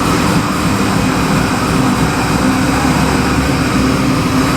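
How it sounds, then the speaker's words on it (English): A 2019 Chevy LS7 441 cubic inch V8 crate engine roars on a dyno, a loud, dense, sustained drone with steady rumble and no voices. "Henry, I got your 2019 GT Chevy LS7 441 cubic inch engine on the dyno"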